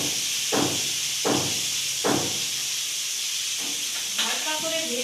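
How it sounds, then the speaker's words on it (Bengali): Fish shallow-frying in hot oil in a home kitchen, a constant loud hiss with several sharp sizzling bursts as pieces are added or turned, close up and without talk. "মাছগুলো ভেজে নিই।"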